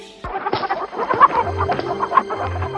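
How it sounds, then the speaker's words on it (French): A hen clucks in a rapid, uneven run of close, loud calls, heard alone with no voices. "Ah, cette idiote de poule s'est enfuie."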